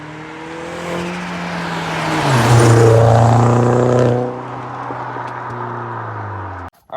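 An Audi A4 1.8T fitted with a 034 Motorsport exhaust revs hard, its engine note climbing to a loud peak and then dropping back to a steady, throaty drone before cutting off abruptly.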